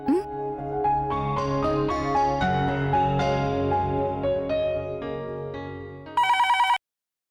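A telephone rings indoors, a ringing tone over a musical score that ends in a short burst of bright rings.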